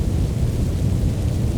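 Heavy rain falls steadily outside, a dense, continuous wash of low rumbling patter with no gaps or voices, loud and even throughout, with a faint thunder-like rumble underneath.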